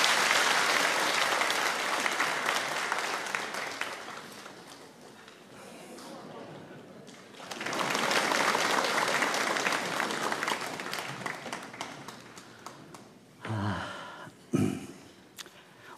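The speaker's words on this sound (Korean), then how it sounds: "우리 박수로 이 아이를 축복합니다" A church congregation claps together to bless a child, a loud, dense ovation that swells, eases, then rises again before breaking into a few scattered final claps.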